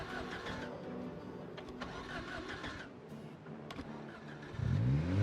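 A sports car engine in the video game Project Zomboid starts up near the end, rising in pitch as it revs, after a stretch of quieter in-game ambient clatter.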